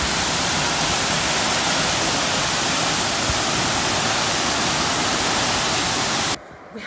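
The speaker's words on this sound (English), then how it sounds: "we're already at our fourth freaking waterfall" El Chiflon waterfall in Chiapas, Mexico, a loud, dense, steady roar of falling water heard up close that cuts off abruptly near the end.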